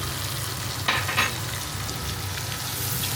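Canned mushrooms frying in butter in a pan for a chicken steak mushroom sauce, giving a steady close sizzle with a couple of brief stirring scrapes near the start.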